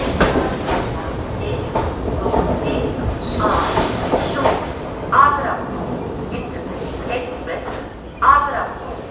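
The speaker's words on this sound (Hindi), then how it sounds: "आगरा कैंट से बनारस जाने वाली वंदे भारत निकल रही है।" A Vande Bharat train pulls out of Agra Cantt bound for Banaras, a steady broadband rumble of rolling carriages with a couple of brief metallic squeals near the end, under a voice.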